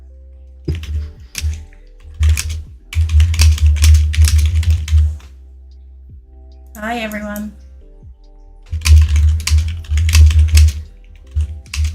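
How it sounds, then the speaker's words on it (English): Computer keyboard typing during a starship simulator development stream, rapid clattering bursts broken by pauses, with people talking over and between the keystrokes. "I haven't finished typing yet"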